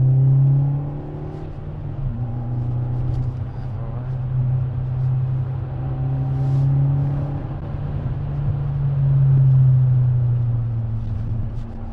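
A small Fiat Panda engine drones and rises in pitch as it accelerates under steady load up a steep hilly road, loud and close, with swells of revving.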